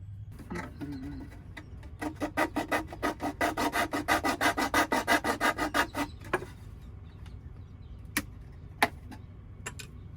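Material is cut to fit around plugs inside a converted Toyota Coaster campervan, a quick run of about twenty even, rhythmic rasping strokes, close and clear, then a few isolated clicks.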